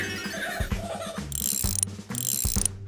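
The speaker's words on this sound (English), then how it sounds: "Strong muscles to clench to lift up this wrench." A cartoon wrench cranking on a truck's gears, with busy ratcheting clicks and mechanical clanks over a continuous loud background, close and lively.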